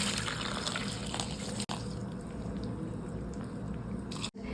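Milk pours steadily into a container, filling half a glass for a mixed fruit juice, with a continuous close liquid rush and two brief breaks in the flow.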